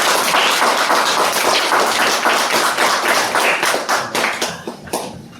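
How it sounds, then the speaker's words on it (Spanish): Audience at a human rights and equal treatment event applauding, a dense, loud sustained clapping that holds steady for several seconds before thinning out and fading at the end. "un aplauso"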